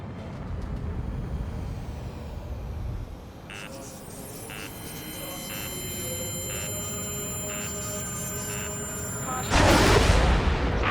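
A railgun energy weapon fires in the Ace Combat 7 air-combat game: a rising electronic whine with pulsing tones builds for several seconds, then releases in one loud broadband blast near the end, over steady engine rumble.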